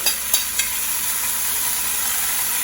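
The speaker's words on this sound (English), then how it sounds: "we're on the second batch of oxtails I get them brown nicely" Oxtails browning in a pot for Jamaican oxtail stew give a steady, close sizzle of hot fat, with a few sharp pops and spits near the start and a constant frying hiss throughout.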